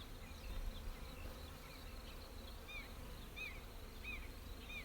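Honey bees buzz steadily around an opened hive during a queen cage check, a dense close hum with scattered higher whines of individual bees passing near, continuous for several seconds.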